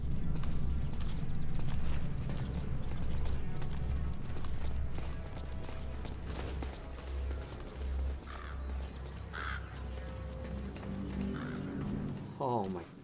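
Horse hooves clip-clop steadily in Metal Gear Solid V gameplay, with crow caws and game ambience around them, and a person talks over the sounds.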